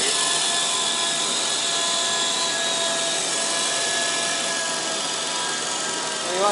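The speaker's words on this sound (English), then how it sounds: "Main shaft's spinning, it's got quite the vibration to it." A model helicopter running steadily, its main shaft spinning with a strong vibration, heard as a loud, continuous high-pitched whine and buzz up close.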